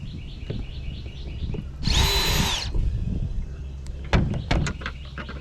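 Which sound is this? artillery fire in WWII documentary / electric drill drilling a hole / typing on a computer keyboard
electric drill drilling a hole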